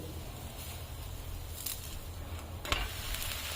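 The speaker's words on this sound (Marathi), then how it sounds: "वरतून थोडंसं तूप लावून घेऊ म्हणजे चवीला चांगला लागतो डोसा आपला डोसा आपण आता पलटी करून देऊ" Ghee-brushed fasting dosa sizzling on a hot griddle, a steady low crackle throughout with a few sharper scraping clicks near the end as it is turned.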